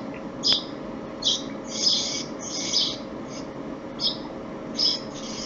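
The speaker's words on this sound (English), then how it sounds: "so there's birds chirping in the background" Birds chirping in Thailand, coming through a cell phone call: short bright chirps in separate bursts, about eight over several seconds, fairly faint over a steady background hiss.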